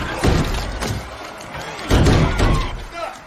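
Heavy booming blasts with crashing impacts from a movie explosion, two big surges a couple of seconds apart over rumbling noise.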